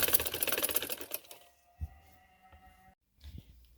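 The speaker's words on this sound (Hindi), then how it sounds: "ये देखिए अब मैं इसको सिलाई देने लगी हूँ" A sewing machine stitches a neck design on a garment in a short, fast run of clattering needle strokes lasting about a second. It then stops, leaving quiet with a few soft clicks and handling noises.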